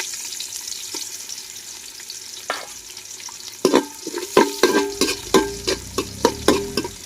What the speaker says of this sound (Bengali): পেঁয়াজটাকে কিছুক্ষণ ভেজে নিব।